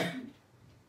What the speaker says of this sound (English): Not sick, just cough.